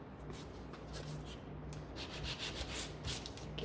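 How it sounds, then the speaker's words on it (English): Sandpaper rubbing back and forth over a painted wooden sign, a steady close scratchy scrape with soft pulsing strokes and no talking. "So grab some sandpaper."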